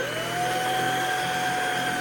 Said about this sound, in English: So let's turn on the vacuum.